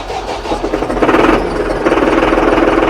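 A Massey Ferguson 7515 AC cab tractor engine cranks and catches, swelling into a loud, rapid, rough knocking rhythm close by, with no talking.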